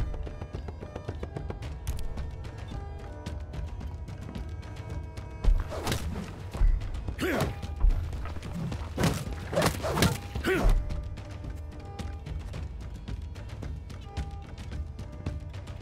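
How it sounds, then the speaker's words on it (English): A building under attack in a strategy video game takes a cluster of dull thuds and wooden impacts in the middle, over a low steady game background with no talk. "One of our buildings is being attacked."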